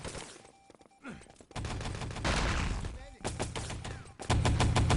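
Machine gun fire crackles in short bursts in the Enemy Territory competitive shooter, with rapid rattling volleys growing louder toward the end of a busy match.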